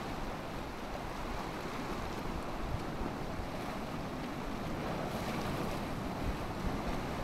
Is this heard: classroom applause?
no